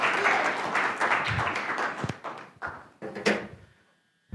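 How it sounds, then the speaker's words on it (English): A church congregation applauds during a sermon. A full wash of clapping comes first, then thins into scattered claps that fade out toward the end. "A round of applause for this person here."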